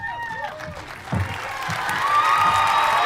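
Applause for a group of graduates at a high school graduation ceremony, rising from a brief pause after a voice into a steady wash of clapping that builds and holds toward the end.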